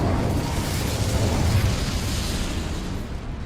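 A sustained roaring whoosh of the Incendio fire spell in Hogwarts Legacy, a dense, loud, broadband burst of flame that holds steady for several seconds before easing slightly.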